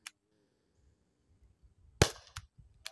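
Umarex air pistol, not a firearm, fired at a flat screen TV: a sharp crack at the start, then a louder, harsher crack about two seconds later, followed by smaller snaps and impacts.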